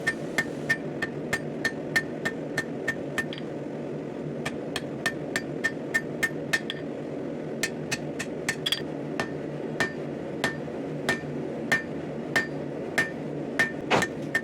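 A hammer forges a steel bar flat to shape a ribbon-twist handle for a medieval cooking fork, striking in a steady rhythm of sharp ringing blows at close range, with brief pauses between runs, over a low background hum.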